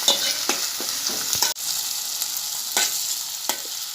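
Tomatoes and onions fry in hot oil for a Konkani kadwe tarkari, a steady close sizzle broken by periodic scrapes and stirs of a spoon in the pan, with one brief cut in the sound partway through.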